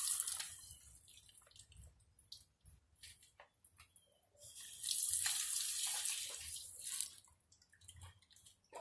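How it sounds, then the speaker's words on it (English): Water poured onto a potted plant, heard as faint irregular splashing and dripping in short bursts with a longer, steadier pour in the middle, quiet and close. "Okay, let me just water it."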